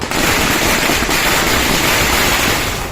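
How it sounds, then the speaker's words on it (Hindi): Firecrackers burst at a street celebration by political supporters in Hubli, Karnataka, forming a loud, dense, continuous crackling roar that fills the whole moment without pause. "जगदीश शेट्टार के समर्थकों ने पटाखे फोड़कर उनकी बीजेपी में वापसी की खुशी मनाई"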